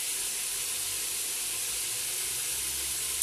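Lamb meat frying in a pan on the stove, a steady soft sizzle and hiss running evenly throughout with no talk.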